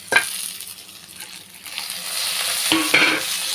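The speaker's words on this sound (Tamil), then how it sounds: "எல்லாம் சேர்த்து நல்லா வதக்கிட்டு ஸ்டவ் ஆஃப் பண்ணிக்கலாம்" Chana dal, urad dal, coriander and tamarind being sautéed and stirred in a pan, with a soft continuous sizzle and a few sharp scraping clinks of the spoon, close and fairly quiet.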